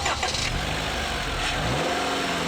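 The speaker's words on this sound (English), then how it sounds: "When iVTEC does its thing, this engine really starts to boil as it charges towards redline." A 2015 Honda Civic Si with a 2.4-litre i-VTEC four-cylinder revs up in a short burst, giving a mid-pitched engine drone with rising harmonics that is heard alone at moderate level.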